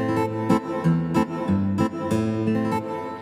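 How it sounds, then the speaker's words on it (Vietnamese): Electric guitar tone from a keyboard playing a rhythmic accompaniment pattern, steady repeated chords with sharp plucked attacks, close and moderately loud, no talking. "Tiếp theo đó là tiếng guitar điện để mình rải mẫu đệm."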